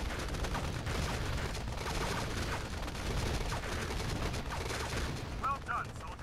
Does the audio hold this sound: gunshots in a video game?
yes